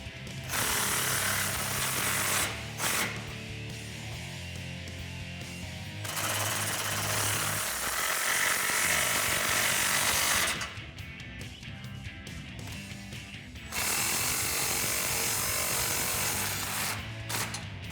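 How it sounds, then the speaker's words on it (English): A socket wrench with a 15mm socket tightens the clamps on a single exhaust system for a 2014-2021 Toyota Tundra 5.7L, giving loud, rapid ratcheting bursts separated by short pauses, close up and without talk. "now you gotta switch over to a 15mm to tighten up all the clamps"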